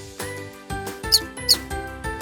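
Mice squeak in short repeated high chirps over a looping background melody, the sharpest squeaks coming in two bright bursts near the middle.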